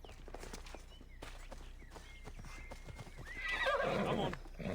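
In Assassin's Creed Odyssey, a horse's hooves clip-clop closer in a quick run, followed by a loud neigh and whinny as it arrives.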